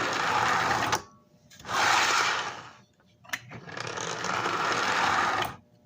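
A Lionel 1065 toy train motor whirs along the track, heavily loaded. It makes three loud bursts of buzzing, gear-rattling running, separated by short near-silent pauses with a faint click.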